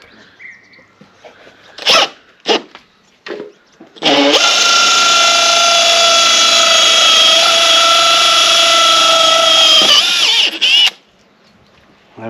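A few short knocks, then a power drill whines steadily for about six seconds before stopping, drilling during a Starlink dish installation.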